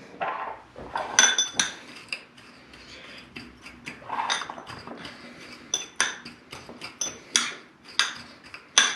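Ribs tossed with smoked paprika and fresh ground black pepper in a bowl, with repeated close clinks and scrapes of utensil against the bowl in uneven bursts, no talking.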